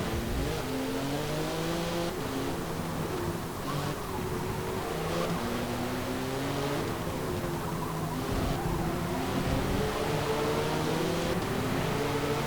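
Race cars accelerating off the line at a race start in the Forza Motorsport 7 video game, a steady, dense roar of many engines revving and shifting together, with no voices and no letup for the whole stretch.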